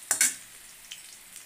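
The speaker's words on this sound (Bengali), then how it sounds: "দেখো, আলুটা ভাজা হয়ে এসছে" Potatoes fry in a pan, giving a couple of quick, close sizzling crackles followed by a faint, steady hiss.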